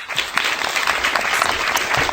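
A crowd applauds loudly and steadily during a live Las Vegas podcast stream, dense clapping that fills the whole moment with no break.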